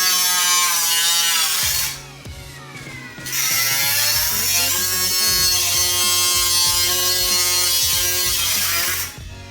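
An angle grinder cuts into the front end of a Toyota MR2 barn-find car, a loud steady high-pitched whine that drops briefly when the disc lifts off, then resumes and runs continuously.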